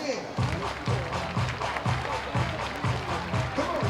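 Large crowd murmuring in the stands at TD Bank Ballpark during a minor-league baseball game, Long Island Ducks against Somerset Patriots, with steady broad chatter and light rhythmic clapping under it.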